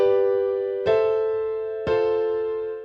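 A piano plays a 1-5-6-4 chord progression in root position, struck once every second, each chord ringing clearly and decaying alone.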